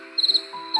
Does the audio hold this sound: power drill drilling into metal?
no